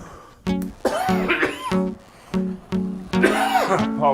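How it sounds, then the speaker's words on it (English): Several close, harsh coughs come in short bursts, separated by brief pauses, some in quick pairs. "Apologize for coughing in your ear."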